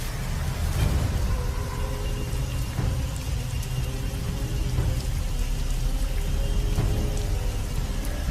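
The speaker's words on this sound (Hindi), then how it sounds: "बारिश अब और भी तेज होती जा रही थी।" A heavy rainstorm pours down steadily, its dense hiss of drops on surfaces carrying a low rumble beneath, continuous and fairly loud with no voices.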